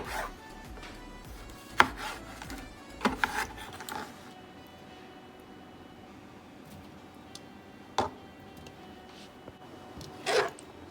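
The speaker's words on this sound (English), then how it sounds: "1 container of grape tomatoes, chopped. So I just cut these into 4s." A knife cutting grape tomatoes into quarters on a board, producing a few sparse, soft chops and taps scattered among quiet pauses.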